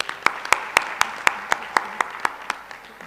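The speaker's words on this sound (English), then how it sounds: "Another round of applause for him." Slow, evenly spaced claps at a conference, about a dozen sharp hand claps in a steady rhythm, close and distinct.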